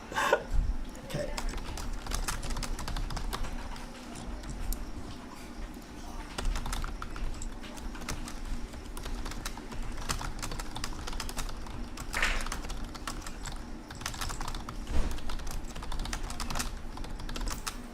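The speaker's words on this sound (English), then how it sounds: "I'm typing it right now." Someone types quickly on a computer keyboard, producing a dense patter of soft clicks that runs for the whole stretch beneath a relaxed conversation between several streamers.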